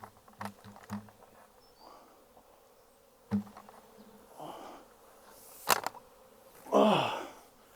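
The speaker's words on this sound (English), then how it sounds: "I got another clump of bees right here." Buzzing of a honeybee swarm drifts close and away, with intermittent louder passes and brief clicking bursts, heard without any talking.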